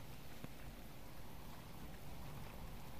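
Steady rain falling in the survival video game Subsistence, a dense, even hiss that fills the whole stretch at a constant level with no talk over it.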